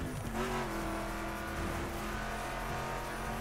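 A Dodge car in The Crew racing game revs and accelerates with a steady, loud engine drone and shifting harmonic whine, up close and without talk.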